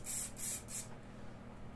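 An aerosol can of layer spray hisses in three short bursts over a model railway cliff face, close and fairly quiet, then stops, leaving low room noise.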